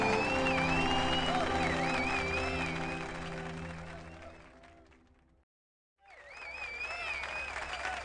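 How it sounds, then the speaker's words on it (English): A crowd cheers and applauds loudly with shouts and whoops over a sustained musical backdrop, gradually thinning before a brief silence, then more voices and clapping resume. "As the crowd cheered"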